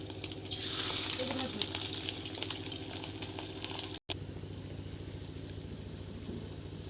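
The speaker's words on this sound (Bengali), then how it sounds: "তেলটা গরম হয়ে গেছে, এবার আমরা ব্যাটারটা তেলের মধ্যে দিয়ে দেব।" Fish roe batter fritters dropped into hot oil in a kadai, a steady crackling sizzle that holds close and fairly loud, cut by a brief gap before continuing more quietly.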